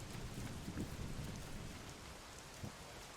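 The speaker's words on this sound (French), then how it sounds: "À cause de la pluie, j'entends pas vraiment." Dense, steady rain pours in the dinosaur survival game The Isle, a continuous full hiss with low rumbling underneath, loud and unbroken with no voices over it.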